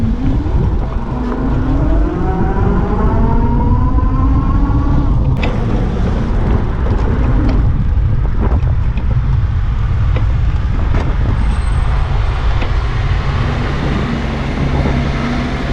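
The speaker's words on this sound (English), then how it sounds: "Perfect timing. The truck rolls up." A truck rolls up on a street in a small coal town, its engine drone and tire rumble loud and close, steady throughout with a rising tone early on and occasional clunks.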